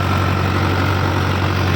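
A Powertrac Euro 60 tractor diesel engine runs steadily at idle, a loud, close, continuous low rumble with no change in rhythm.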